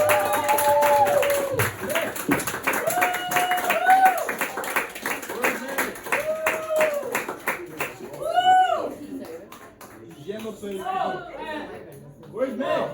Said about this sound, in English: Please give him a big round of applause, Nick Lally.